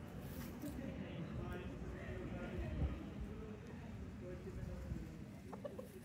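Hens and chicks from a McLean hatch crossed with blues clucking steadily outdoors at low level, with faint chirps and some distant voices in the background.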